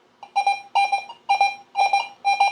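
XP Deus 2 metal detector signalling a nickel target: five short warbling beep bursts in an even rhythm, loud and close, with no talking.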